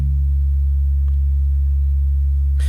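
An FM synthesizer holds a steady pure sine-wave tone: a loud, unbroken low hum with no harmonics that stays constant the whole time. A faint click comes near the end.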